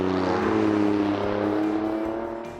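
An Alfa Romeo Stelvio Quadrifoglio's 2.9-litre twin-turbo V6 roars close and loud in a sustained, throaty drone, its pitch easing slightly downward as the engine note fades near the end.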